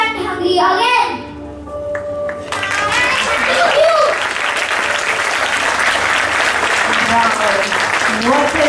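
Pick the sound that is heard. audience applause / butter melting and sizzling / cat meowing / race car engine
audience applause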